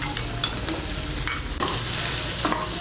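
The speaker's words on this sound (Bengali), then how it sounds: "আলুগুলোকে তেলের সঙ্গে মিশিয়ে নেব। মিশিয়ে নিয়ে আলুগুলোকে একটু ভেজে নেব।" Thinly sliced medium potatoes stirred and frying in hot oil after chopped onion greens, with a constant loud sizzle and occasional spatula scrapes; the frying hiss grows louder midway and stays steady.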